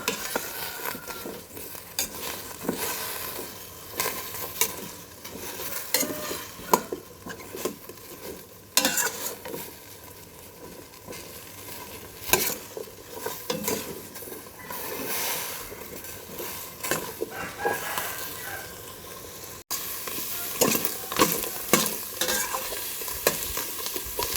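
Ingredients for an Isan bamboo shoot curry with red ant eggs are stir-fried in a pot, with a steady sizzle and repeated scraping, clinking strokes of a utensil against the metal, close and continuous.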